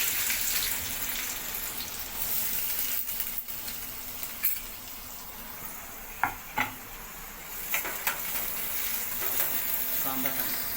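Onion fries in oil in a kadai for a crab curry, giving a steady low sizzle with occasional clinks and scrapes of stirring. The sound is close and fairly quiet.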